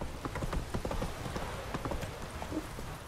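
Horse hooves clip-clop steadily in The Witcher 3 as the horse trots along, a rapid rhythmic series of close, fairly loud hoof falls with a brief whinny-like note and light game ambience underneath.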